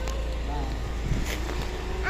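A cat gives a couple of faint, brief meows, one early and one at the very end, against a quiet indoor hum while someone talks nearby.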